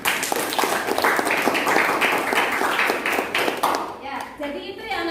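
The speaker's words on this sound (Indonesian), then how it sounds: "Oke, tepuk tangan lagi untuk Reta." Classroom applause for a student named Reta: a group of pupils clapping in a quick uneven patter for about four seconds, then tapering off as a voice begins to speak.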